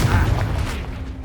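Blast from the Confringo fire spell in Hogwarts Legacy: one loud, close, booming explosion that fades out over about a second.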